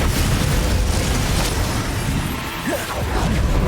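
A Bombarda spell explodes in Hogwarts Legacy, a loud booming blast with crackling debris and whooshes that fills the whole moment and settles briefly before rising again, with no voices.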